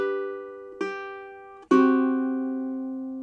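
Fingerstyle ukulele playing a Happy Birthday phrase: a ringing held note, then a plucked note with a finger slide, then a bright strum across the top three strings that rings out and slowly fades.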